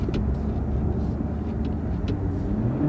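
A Toyota car engine with a multi-speed transmission in manual shifting mode, heard from inside as a steady, loud low rumble without a clear gear change.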